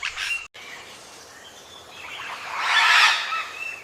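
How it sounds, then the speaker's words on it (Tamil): A paradise tanager calls in a few bright chirps, faint at first, then a louder high twittering burst stands out against quiet Amazon rainforest background. "பாரடைஸ் டானஜர்."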